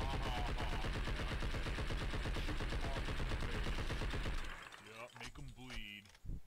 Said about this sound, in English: Hey, stop shooting your gun at me.